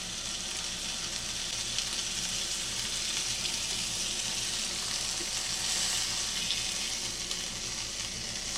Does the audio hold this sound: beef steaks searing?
yes